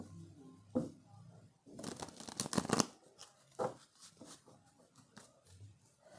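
Tarot cards are shuffled and drawn in short papery bursts: a brief riffle near the start, then a dense, louder run of shuffling, followed by scattered soft slaps and rustles as cards are laid down, with no talking.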